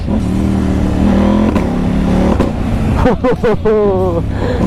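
KTM 890 Duke 2022 motorcycle engine accelerating through quickshifter gear changes, a loud close rising drone with brief breaks between gears, followed by a voice speaking over the engine.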